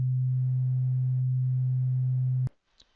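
Steady low pure sine tone at reduced amplitude, soft and unchanging for about two and a half seconds, then abruptly cut off, followed by a faint click.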